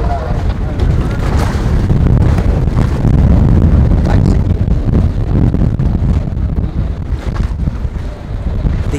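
Strong wind gusts buffet the microphone at a marina while a sailboat tries to dock, a loud, constant roaring rumble that swells and eases in waves throughout, with faint voices under it.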